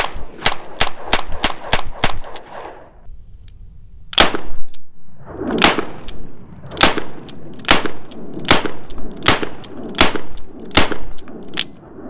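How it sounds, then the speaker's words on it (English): An 8-shot R8 revolver firing .38 Special rounds: a rapid string of sharp, loud gunshots, then a pause and a slower, evenly paced series of single shots, each crisp crack with a short ringing tail. "All right, let's do a quick 8."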